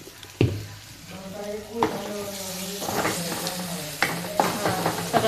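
A spoon stirs spiced masala with turmeric frying in a pan for shev bhaji, with sharp scraping clinks over a steady sizzle, and a voice speaks faintly underneath.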